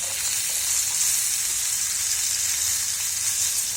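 Semolina-coated halibut frying in a pan gives a steady, close sizzle with a bright crackling hiss that holds level throughout, with no talking.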